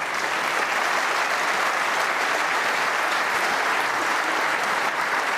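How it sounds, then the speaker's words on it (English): A large crowd at the 2016 World Snooker Championship final applauds a good shot with steady, loud, continuous clapping that fills the hall for several seconds. "Applauding that good shot from her husband."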